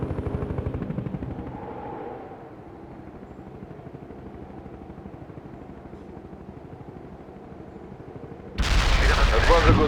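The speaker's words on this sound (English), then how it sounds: "Enemy scout spotted. Artillery strike on the way." Artillery strike in the real-time strategy game World in Conflict: a steady pulsing engine-like drone gives way to a sudden, loud, sustained blast of explosive impacts near the end.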